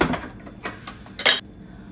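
Cooked rice for kimbap being stirred in a bowl, with scraping and clattering of a utensil against the dish, ending in a sharper metallic clink, close and fairly loud.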